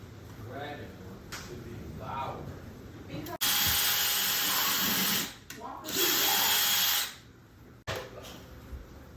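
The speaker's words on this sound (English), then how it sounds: "I'm going to drill directly into the stud" A power drill whirs loudly and close in two sustained bursts while driving screws into a wall stud, with a short pause between them. Quieter handling noise comes before and after.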